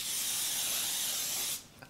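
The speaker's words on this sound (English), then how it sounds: "Okay, I'm gonna spray this." Hairspray hisses from an aerosol can onto freshly curled spiral waves, one continuous close spray lasting about a second and a half before stopping, with faint handling noises after.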